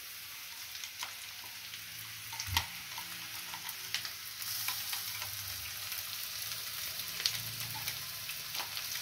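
Green peas with turmeric fry in a hot wok for a potato and pea curry, a steady, bright sizzle broken by a few soft knocks and scrapes of stirring, with no voices present.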